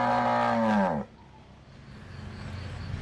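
A free-roaming cow on a roadside in Ngũ Hành Sơn gives one loud, close, drawn-out moo that drops in pitch and stops, leaving quiet outdoor background noise.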